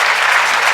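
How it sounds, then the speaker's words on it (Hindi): Dense, loud applause fills a hall just before a patriotic Hindi poetry recital begins. It is a brief, steady wash of many hands clapping together. "एक छोटी सी तालियां देकर मुझे आदेशित"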